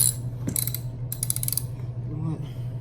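A ratchet tightens a bolt on the front brake of a 1992 Harley-Davidson Sportster, giving two close bursts of rapid clicking separated by a short pause.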